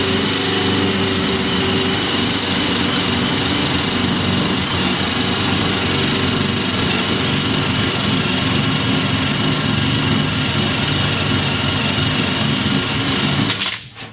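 A rotating eraser wheel driven by a power tool whirs steadily and loudly at high speed while removing trim and emblem adhesive residue, continuous and close, cutting off at the end.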